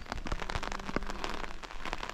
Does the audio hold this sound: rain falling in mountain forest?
yes